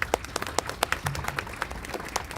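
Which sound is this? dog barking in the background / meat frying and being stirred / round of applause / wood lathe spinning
round of applause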